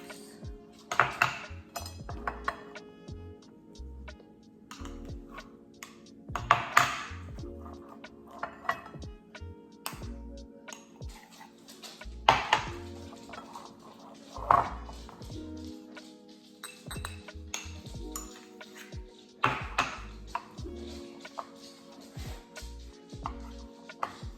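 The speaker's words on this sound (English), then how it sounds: "Scoop some into the bowls." A spoon scrapes and clinks against bowls as icing for a Grinch cake is scooped and divided, giving irregular metallic taps and knocks spread through the stretch with quiet pauses between.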